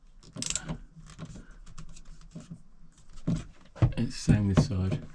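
Clicking and rattling of plastic clips being loosened on a new skylight fitted to a crash-damaged motorhome, in short irregular bursts close up, while someone talks throughout.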